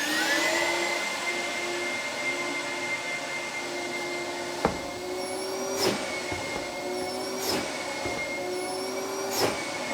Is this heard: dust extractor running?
yes